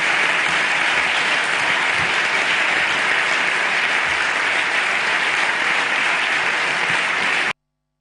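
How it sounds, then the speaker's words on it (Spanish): Sustained, loud applause from a large audience in a standing ovation for Manuel Cruz, dense and steady throughout before cutting off abruptly near the end. "Ovación cerradísima para el señor Manuel Cruz."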